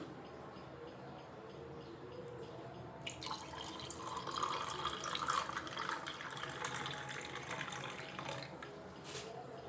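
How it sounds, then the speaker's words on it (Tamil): Carrot juice is poured over ice cubes in a glass. After a quiet start, a close splashing pour begins and carries on steadily, with light clinks and drips near the end. "கொஞ்சமாக ஐஸ் க்யூப் சேர்த்தாச்சு இப்போ நம்ம ரெடி பண்ணி வச்ச கேரட் ஜூஸ் அதில் சேர்த்துடலாம்"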